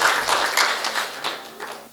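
Audience clapping at a Hindi poetry recital, a dense burst of applause that swells and gradually thins out over two seconds, with no talk over it.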